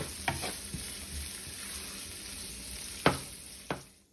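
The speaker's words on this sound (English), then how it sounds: "Okay, so now we're going to go in with our onion and garlic. I'm gonna have that saute for about 2 minutes." Onion and garlic sauté in a pot for an oxtail stew, giving a continuous, even sizzle close up, with a few sharp clinks and scrapes of stirring scattered through it.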